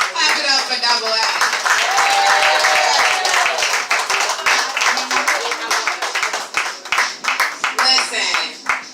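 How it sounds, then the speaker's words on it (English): Audience clapping and cheering for a poet at an open mic poetry show, loud and dense at first with voices shouting over it, then thinning into scattered individual claps near the end. "Y'all clap it up for Double A."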